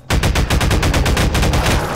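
Rapid gunfire from alien weapons in Garry's Mod, loud and close, with a dense stream of shots, repeating bursts and no pauses across the whole stretch.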